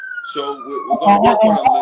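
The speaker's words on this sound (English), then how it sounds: "that's the ambulance. They ain't coming to get me." An ambulance siren wails in a long, sliding tone, moderately near, heard under someone speaking throughout.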